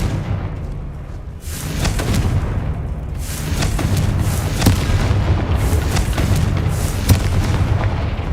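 A Confringo fire spell from Hogwarts Legacy erupts in a run of loud, booming blasts over a dense rumbling bed, with sharp impacts landing repeatedly across the span and no talking.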